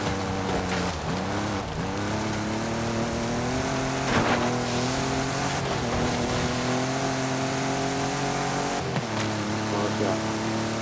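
A Ford F-150 Raptor driving in the video game Forza Horizon 5, its engine droning steadily with rising and falling revs through gear changes, loud and continuous, with a voice talking over it.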